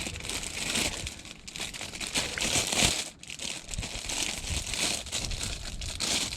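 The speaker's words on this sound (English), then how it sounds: "I think it's hard to be opening this plastic packaging" Plastic packaging being pulled open by hand during a routine service on a 2014 Kia Sorento, loud close crinkling and crackling that continues unbroken, with a brief pause midway.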